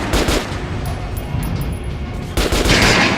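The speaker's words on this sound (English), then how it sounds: "Try shooting for the center of the regular dummy's chest." Rapid gunfire at a training dummy in the Metro 2033 Redux video game, loud bursts of close shots in quick succession, with a brief lull before another burst.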